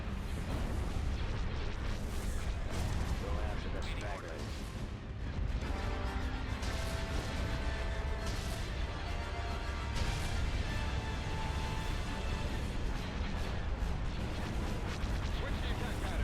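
Dense laser cannon fire and booming blasts in a Star Wars space battle video game rumble continuously, loud and layered, with no pauses throughout.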